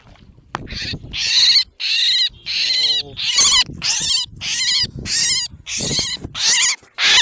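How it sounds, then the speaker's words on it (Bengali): An injured sparrow, caught in a net and now held in a hand, gives loud, harsh, repeated distress calls in rapid bursts close to the listener. "তো গাইস, দেখতে পাচ্ছ পাখিটা আমার হাতে।"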